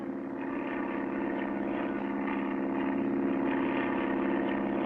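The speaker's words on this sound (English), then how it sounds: "Clutch and Company board their plane and begin their trip." A steady, droning propeller-plane engine in a 1959 cartoon hums continuously at an even loudness, with no voices over it.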